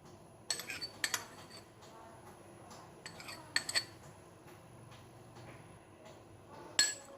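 Spoon clinks against a bowl while strawberry custard powder is stirred into milk, a few scattered metallic taps in short bursts over a quiet background.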